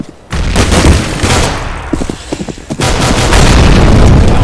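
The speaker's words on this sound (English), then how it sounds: "I'm throwing a grenade!" A grenade blast in an online first-person shooter match, a sudden loud boom with a rumbling tail amid scattered gunfire pops, close and heavy.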